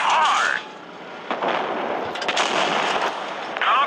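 A tank cannon fires in a tank video game, with a sharp blast followed by rumbling decay and further booming reports over a few seconds, close and loud.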